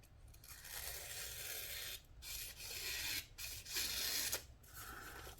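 A small EDC knife blade from Twosun slices through material as a cutting test, making soft, raspy scraping strokes in several close, quiet passes separated by short gaps.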